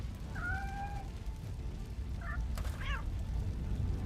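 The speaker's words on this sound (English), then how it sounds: "Where's the cat? No. There it is. I hear it." A cat meows several times in RoboCop: Rogue City, thin rising-and-falling cries spaced apart over a steady low background hum of the game.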